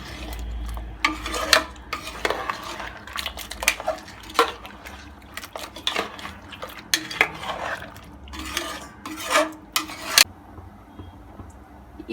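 A spoon scrapes and clanks against a metal pot of lamb head curry while thick liquid sloshes, in irregular stirring strokes, close and fairly quiet.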